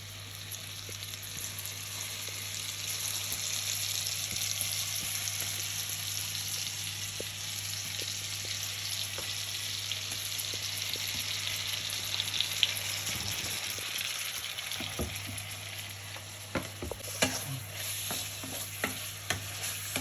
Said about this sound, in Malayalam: ബട്ടറിനകത്ത് ചിക്കൻ നല്ലോണം വറുത്തെടുക്കണം, വേവിച്ചെടുക്കണം.